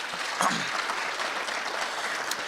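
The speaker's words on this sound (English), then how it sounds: "let's give the Honorable Minister a big round of applause" An audience at a national ICT summit gives a short burst of steady applause for a government minister, a dense patter of many hands.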